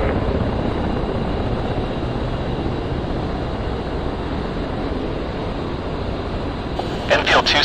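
A-10C jet taxiing to the runway in the DCS flight simulator, a loud continuous turbine roar with a broad rushing hiss, steady throughout, and a brief burst of higher crackling noise at the very end.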